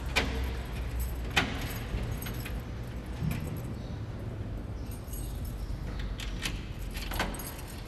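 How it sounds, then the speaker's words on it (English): Metal keys jangling for a church safe holding old holy books, a few sharp clinking bursts over a steady low background hum. "Three keys are required to open the safe that contains the still intact holy books"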